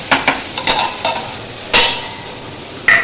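Tomatoes and onions fry in a pan for beef varattu as a spoon stirs and scrapes in several short bursts, with a quiet sizzle between the strokes and no voices.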